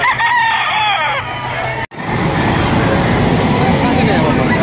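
A rooster crows loudly and nearby, then an abrupt cut gives way to a dense noisy wash of clucking fowl and background rumble at a crowded chicken market.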